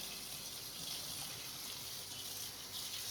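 A tie-dye shirt is rinsed under running tap water, which gushes in a steady, even hiss throughout.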